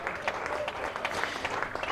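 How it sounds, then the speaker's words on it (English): Cricket crowd at a Leicestershire v Sussex County Championship match applauding Ben Brown, a moderate burst of steady clapping from a modest crowd with no voices. "Applause for Ben Brown."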